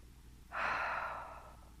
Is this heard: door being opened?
no